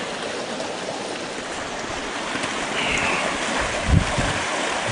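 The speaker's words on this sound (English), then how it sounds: "It's a beautiful creek." A rocky creek flows continuously in a steady broadband rush, close and moderately loud, with a brief low splash or thump near the end.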